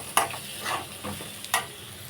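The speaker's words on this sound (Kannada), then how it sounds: "ಈ ಥರ ಕೆಂಪಗಾದ್ಮೇಲೆ ಸ್ವಲ್ಪ ಫ್ರೈ ಮಾಡ್ಕೊಳ್ಳೋಣ." Shredded cabbage sizzles in hot oil in a pan, a soft frying hiss broken by a few sharp scraping, clinking stirs of a spoon, close and fairly quiet with no talking.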